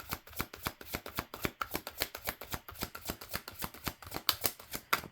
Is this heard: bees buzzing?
no